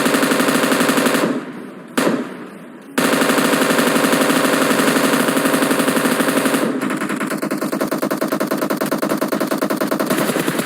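An M249 machine gun fires in a video game in long, rapid, continuous bursts, loud and close, with a short gap partway through before the firing resumes.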